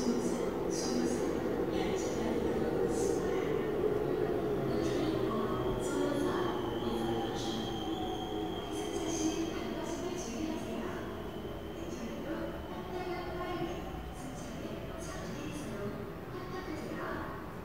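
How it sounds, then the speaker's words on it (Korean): Subway train rumbling into a station, a steady low roar with faint wheel squeal and rail noise running throughout at moderate loudness, gradually easing, with no talk over it. "여기 화면에 보시면 이제 지하철에서 지하철이 들어오는"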